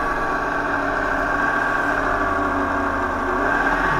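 Attraction motor spinning near 3,100 RPM on a test bench, a steady, even mechanical hum with constant pitch throughout, close and moderately loud, no voices.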